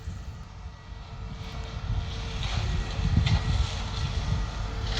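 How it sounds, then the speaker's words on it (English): A big tractor cutting hedges nearby, a steady low engine drone with rushing cutter noise and light wind buffeting, growing slightly louder toward the end. "there's a big tractor over there"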